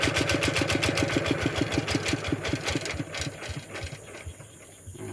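A farm engine idles in a rice field with a steady rapid thumping beat that runs for a few seconds and then fades and stops, loud and close with no voices.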